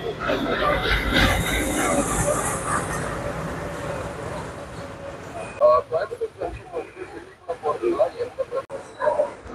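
A passenger train rolls into Ernakulam Junction station in Kerala, a steady loud rumble that gives way to irregular rattling clatter of carriages and wheels over the last few seconds.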